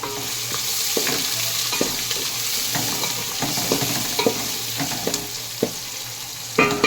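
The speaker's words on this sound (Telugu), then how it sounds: "ఆయిల్ హీటాక సన్నగా తరుక్కున్న ఆనియన్స్ వేసుకుందాం." Finely chopped onions fry in hot oil for Telangana-style fish pulusu, giving a steady, loud sizzle punctuated by scattered clicks and scrapes of stirring, with no voices.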